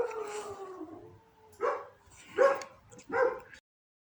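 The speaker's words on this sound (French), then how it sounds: "je vais voir mes chiens qui aboyaient." Dogs barking and howling nearby, a drawn-out howl followed by three separate loud barks spaced roughly a second apart, then silence.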